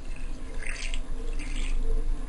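Water poured from a vessel into flour with salt while mixing dough for samosa and spring roll sheets in a home kitchen, heard as a close, soft trickle with light splashing across the clip.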